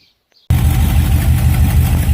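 A 1971 Pontiac LeMans T37 with a leaking exhaust manifold fires up after silence, then runs loud and rough, its close, rumbling idle full of raspy, ticking exhaust pulses.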